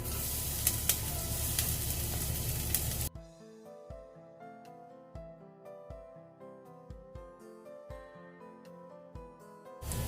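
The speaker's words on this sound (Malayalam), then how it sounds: "എണ്ണ ചൂടായിട്ടുണ്ട്. അപ്പോൾ നമ്മൾ ആദ്യം തന്നെ ഗാർലിക് ഇട്ട് കൊടുക്കാം." Garlic hitting hot vegetable oil for vegetable Hakka noodles, a loud broad sizzle for about three seconds that cuts off abruptly, followed by quieter clinks and taps.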